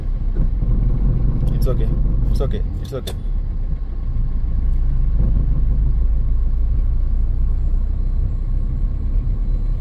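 A car engine holds a continuous low rumble up close as the driver shifts into third gear and slowly releases the clutch without pressing the accelerator, while an instructor's voice talks over it.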